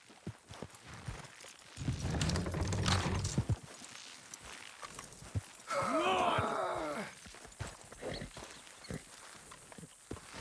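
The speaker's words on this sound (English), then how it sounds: "Horses will pull it clean down" In Red Dead Redemption 2, horses strain to pull a load down, hooves clip-clopping and shuffling close by amid creaks, snorts and heavy effortful groans.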